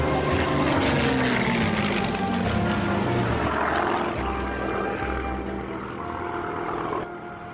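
A Spitfire fighter plane flies with a loud, steady propeller engine roar that holds close and heavy throughout, easing slightly toward the end, with no talk over it.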